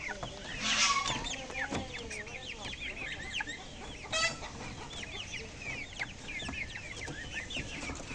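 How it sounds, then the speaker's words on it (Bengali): A flock of chickens clucks and chatters continuously at a moderate distance, many overlapping short calls forming a busy, fairly quiet backdrop. "আমাদের বাড়িতে কত সুন্দর ব্রয়লার মুরগি দেখছো"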